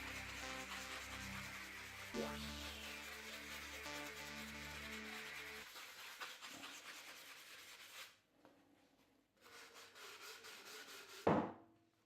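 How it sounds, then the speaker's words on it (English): Steady, close abrasive rubbing of a 100-grit sanding sponge against a cut glass bottle edge, continuous for several seconds, then stopping and restarting in shorter strokes. "I use a 100 grit sanding sponge, just to be sure that everything will look smooth and clean"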